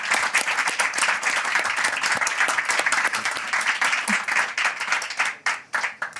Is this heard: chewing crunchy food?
no